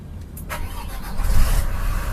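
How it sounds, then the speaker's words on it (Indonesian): Diesel engine of an OH 1526 bus, started through a relocated starter switch because the ignition key switch is broken, cranks briefly and then catches into a steady, loud running rumble close by. "Nah, mesin udah hidup."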